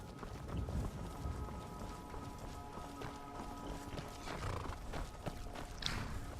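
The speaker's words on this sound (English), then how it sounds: "I guess Gore left his horse here." A horse in the game Skyrim snorts and whinnies over a busy background of hooves and ambient game noise, with a steady tonal hum.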